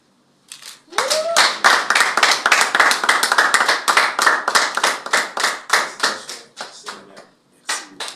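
An audience claps at a ceremony in the Matadi town hall. A quick rhythmic burst of hand claps starts after a brief pause, holds steady and loud, then thins into scattered claps. A short vocal sound rises near the start.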